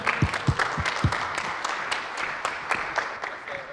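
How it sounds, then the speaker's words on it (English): Audience applause at a small morning gathering welcoming a presenter, scattered claps with a few heavier thumps early on, moderate in volume and thinning toward the end. "Give her a round of applause"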